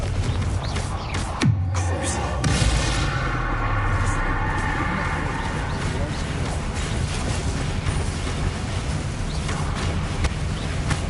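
A Confringo fire spell blasts in Hogwarts Legacy, a single sharp explosive burst near the start, then a rumbling roar of game effects and music that continues beneath a speaking voice.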